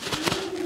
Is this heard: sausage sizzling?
no